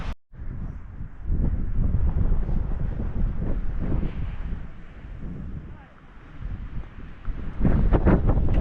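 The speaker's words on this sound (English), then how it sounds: "Wind is really blowing at me." Strong wind in a Utah desert canyon buffets the microphone in continuous rumbling gusts, with a brief lull partway through before it roars back even harder.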